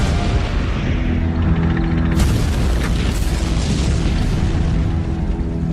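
A heavy boom of a Sherman tank being destroyed by a German Panzer in tank combat in Lorraine, France, a deep blast with a crackling secondary burst over a constant roaring rumble of battle.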